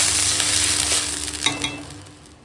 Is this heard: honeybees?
no